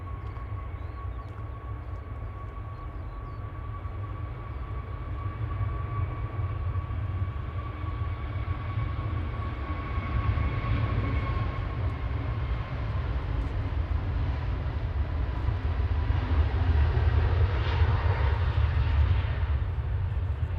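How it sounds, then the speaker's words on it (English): An Airbus A380 airliner taxis out at Manchester Airport, its engines producing a low, steady rumble with a faint whine that swells gradually, heard from some distance. "A380 is not just pushing, it's taxiing out."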